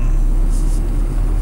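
Inside a Dacia Sandero on the move, a steady low engine and road rumble fills the cabin briefly, even and moderate in level.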